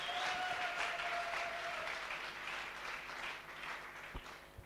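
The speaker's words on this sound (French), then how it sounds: "On acclame le Seigneur. Non, on n'acclame pas bien, il faut acclamer très fort." A congregation at a large Christian gathering breaks into loud, sustained applause and cheering, a dense wash of clapping that swells at the start and tapers slightly, with scattered sharper claps near the end.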